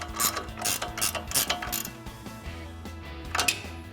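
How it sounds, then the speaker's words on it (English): Metal wrench ratcheting a nut tight on a bolt of a Rough Country 3-inch bolt-on suspension lift kit on a RAM 1500 truck, a series of close clicking, clanking strokes with short pauses between. "Tighten this up with our 21 wrench."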